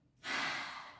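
One long exhale during a breathing exercise in a breast cancer rehabilitation class, a soft close breathy rush that begins abruptly and fades gradually over about a second.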